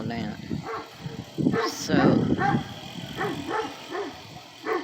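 A Great Pyrenees dog barks repeatedly at a mail carrier from nearby, in uneven bursts heard under a person talking.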